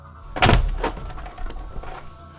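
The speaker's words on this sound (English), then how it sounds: "the door shook like it had been hit by a truck" A heavy door struck hard from outside, one loud booming thud followed by a few weaker knocks and rattles that fade, with no voices.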